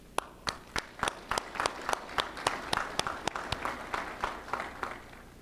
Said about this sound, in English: please join me in giving the family and friends a round of applause